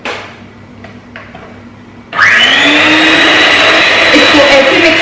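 An electric mixer whips 300 grams of double cream; after quieter handling sounds and a brief voice, the motor switches on abruptly to a loud, steady high whir that runs continuously.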